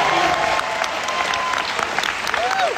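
A dense burst of audience applause fills a gala hall, steady and loud for a few seconds, with faint voices mixed in.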